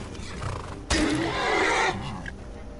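A horse in an Elder Scrolls game set in Tamriel lets out a loud, strained neigh as it dies, one sustained cry of about a second rising sharply over quieter game ambience and fading off.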